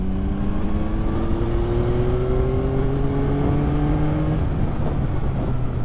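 A 2021 Yamaha MT-09 SP motorcycle pulls hard under a steady engine drone, its pitch rising smoothly before a quick quickshifter upshift cuts in and the revs drop, with wind noise throughout and no talk.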